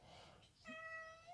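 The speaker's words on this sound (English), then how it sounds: "You might hear my cat meowing in the background." A pet cat meows in the background of a quiet room, one faint drawn-out call with a clear tonal ring arriving midway and holding to the end.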